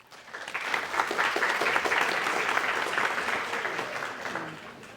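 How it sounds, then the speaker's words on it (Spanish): Applause from an audience at a university philosophy lecture, rising quickly from quiet into full, even clapping that holds and then slowly fades. "Un aplauso, por favor."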